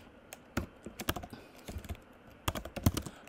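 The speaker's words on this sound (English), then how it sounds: "Now, let's have a little fun here and write a very small Java program, which I shall name after my friend Gottwals" Typing on a computer keyboard while writing a small Java program, with irregular bursts of close, crisp key clicks separated by short pauses, alone without talk.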